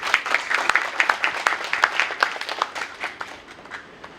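Audience applause with distinct, fairly close individual claps in an irregular patter, thinning slightly toward the end.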